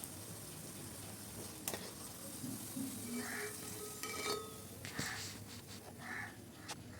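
Moong dal poori frying in hot oil, a steady sizzle and bubbling with occasional clinks and stirring from a utensil, close and continuous.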